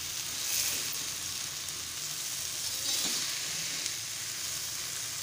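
Fish fries in a hot pan in Malvani style, a dense continuous sizzle, close and fairly loud, with soft tossing and stirring swells through the oil and no talking.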